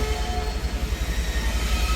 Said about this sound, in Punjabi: ਟ੍ਰੇਨ ਪਿੱਛੇ ਨੂੰ ਆ ਰਹੀ ਹੈ ਕੋਈ ਟ੍ਰੇਨ ਨਾ ਹੋਵੇ